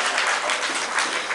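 Congregation clapping in praise of God during a Telugu church sermon, a dense, steady wash of applause filling the full moment without pause.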